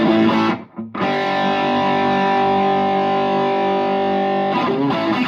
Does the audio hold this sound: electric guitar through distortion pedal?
yes